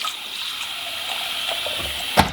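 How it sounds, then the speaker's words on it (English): Tap water runs steadily into a cup of rice for washing in a cottage kitchen, a continuous close gush that ends with a brief knock or splash. "So I'm doing a cup of rice, and then I'm going to give it a quick wash."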